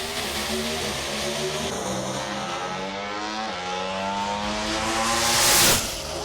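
Pro Stock drag race cars roar at a Friday-night drag strip, a sustained high engine drone that shifts pitch as they run, swelling to a loud peak near the end.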